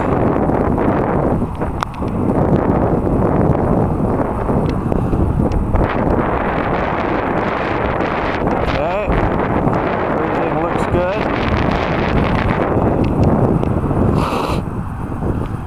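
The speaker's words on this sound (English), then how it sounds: "this is the way the wind's coming" Strong wind blowing across an outdoor model-aircraft flying field, giving constant loud buffeting on the microphone that nearly drowns out someone talking.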